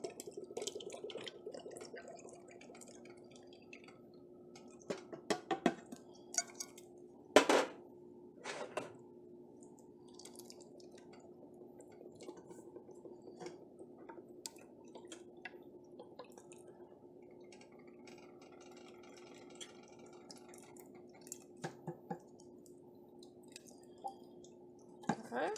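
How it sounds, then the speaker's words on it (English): Thick condensed milk pours slowly from a can into a pot, giving faint, irregular drips and soft squishy plops with occasional clicks of the can against the rim in a quiet kitchen. "just pour in my condensed milk"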